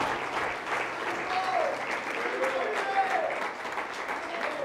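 A church congregation at an anniversary crusade service in Lampa, Chile claps in praise, a steady mass of hands with scattered voices calling out underneath.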